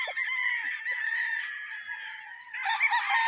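Local banded chickens on a farm crow and cluck close by, a long, loud crow running steadily and then picking up again near the end, with no talking.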